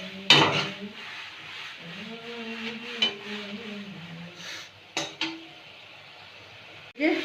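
Spice masala fries in oil in a pan for a fish curry, with a faint low sizzle under sharp metal clinks and scrapes of a spatula against the pan. A few isolated knocks are spread across the stretch.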